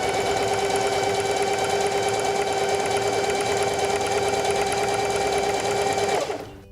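Singer 4411 heavy duty sewing machine stitching a buttonhole in fabric, a steady, loud, continuous motor whir with fast needle chatter that runs for about six seconds and then winds down and stops.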